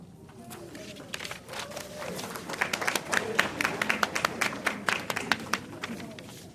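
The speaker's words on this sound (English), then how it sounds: "Give them another round of applause." Audience at a Georgia candidate forum clapping to welcome Fulton County Commissioner District 5 candidates, scattered claps growing into a brief round of applause with crowd murmur and a voice underneath.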